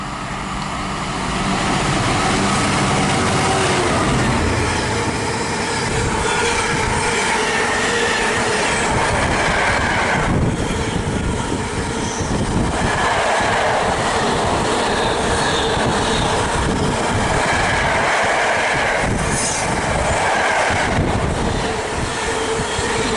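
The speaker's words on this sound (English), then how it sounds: "passing through now, we've got our first freight train of the day" A freight train passes through Tamworth on the West Coast Main Line, a loud, steady rumble of rolling wagons with wheel clatter and occasional squeal, continuing throughout with no talk.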